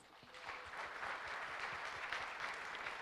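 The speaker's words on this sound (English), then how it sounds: "can we get a big round of applause for our panelists?" An audience at a global digital health panel claps for the panelists, a steady wash of applause that swells in the first second and then holds evenly and fairly softly to the end.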